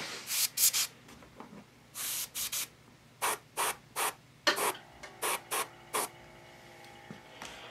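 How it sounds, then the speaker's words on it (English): Short hissing bursts of spray paint applied to a Wolverine Bowen statue during yellow paint chip repair, about a dozen close, loud puffs in an uneven rhythm with brief pauses between. "I'm spraying it all over here just to kind of get it out"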